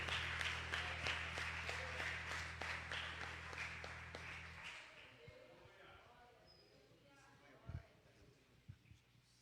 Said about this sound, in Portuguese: As palmas louvam ao Senhor Jesus.